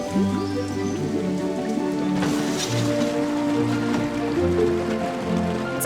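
Steady rain patters continuously on a surface, with a soft watery wash and low background tones throughout.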